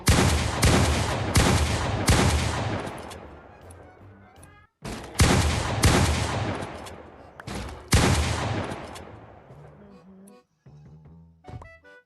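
Repeated M1014 shotgun blasts in a Minecraft guns mod, several loud booming shots in quick pairs with decaying tails and pauses between bursts, ending with faint clicks of handling.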